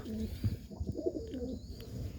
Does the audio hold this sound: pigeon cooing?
yes